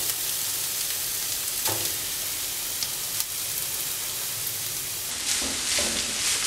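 Bitter gourd mix for a Kerala thoran fries in a hot pan, giving a steady bright sizzle throughout, with a few soft scraping stirs and small pops over the hiss.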